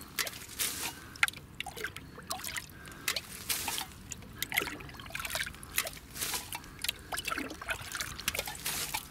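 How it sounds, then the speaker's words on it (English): Water trickles and splashes in short bursts as it is scooped by hand out of a freshly dug gypsy well at a bushcraft camp, with a steady run of close drips and pours. "I'm as quickly but as carefully as I possibly can scooping this water out, throwing it well away"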